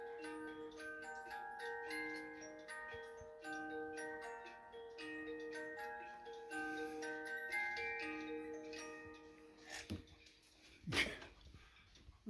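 An 8-day cuckoo clock ticks steadily beneath a bright tinkling melody, with a couple of louder knocks near the end.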